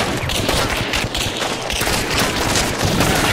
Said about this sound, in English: Oh my god, there was so much gunfire, my audio.